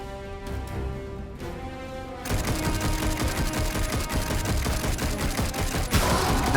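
Gunfire aimed at barrels in the action game Darksiders Genesis: after a quieter opening with a sustained tone, a dense rapid burst of shots starts and continues as a loud, rattling fusillade to the end.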